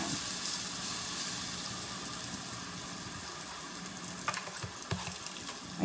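Bananas go into a hot pan with caramelized sugar, giving a soft steady sizzle and frying hiss that stays faint and close, with a few stirring clicks toward the end.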